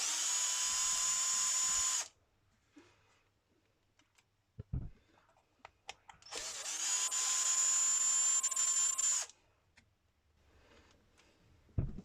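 Impact driver backing out two large 3mm bolts from the centre differential of a Team Associated Rival MT10 RC truck, two loud sustained high-pitched whirring bursts separated by quiet handling clicks and taps.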